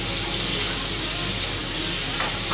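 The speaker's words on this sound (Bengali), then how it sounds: "দেখুন আমার মশলাটা কিন্তু খুব সুন্দর কষানো হয়ে এসছে।" Spice paste (masala) sautéing in a pan gives a steady, close sizzle with faint stirring scrapes, running continuously with no speech.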